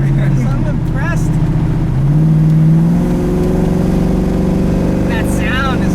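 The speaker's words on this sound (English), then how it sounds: "That sound is so good too. This engine, I mean." A 1970 Chevy Nova V8 engine revs and holds a steady, loud drone with rising pitch, rumbling throughout with faint talk underneath.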